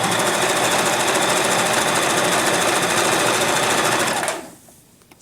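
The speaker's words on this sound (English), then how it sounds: "Make sure you have lots of thread coming out of your needle, and you're going to just sew straight across." A sewing machine runs a straight seam across a duck pillow, a steady, loud, continuous mechanical whir close by that stops abruptly near the end.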